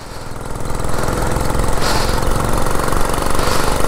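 A vintage 1947 Whizzer Model H motorbike engine putters steadily at close range while riding, a continuous rough, rapid chugging that holds loud and even throughout, with no voices.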